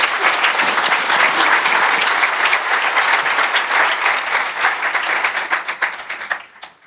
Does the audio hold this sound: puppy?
no